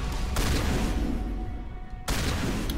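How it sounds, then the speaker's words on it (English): Gunfire in the Mass Effect Legendary Edition video game, a dense sustained burst of loud, close shots that briefly drops away then resumes, with no talking. "I am shooting Liara."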